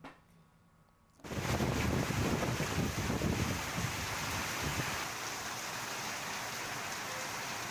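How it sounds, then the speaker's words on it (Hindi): Rain pours down in Jaisalmer, Rajasthan, setting in abruptly after a second of quiet and continuing as a loud, dense, steady hiss mixed with wind noise, with no voices. "तो ये गिरती बारिश की बूंदें लोगों को भीषण गर्मी से राहत दी"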